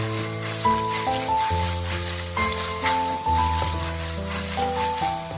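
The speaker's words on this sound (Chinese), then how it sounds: "然后转大火快速的翻炒，让所有的食材都吸收料汁的香味" Clams and sauce sizzle in a wok over high heat while being stir-fried quickly, a continuous hissing fry under steady background music.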